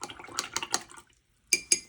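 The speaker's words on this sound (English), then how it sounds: "I'm just cleaning off my brush" A paintbrush is rinsed in a water jar during watercolour floral painting, giving a run of quick clinking, swishing taps against the container, a brief silent pause, then a few sharper knocks of the brush on the rim.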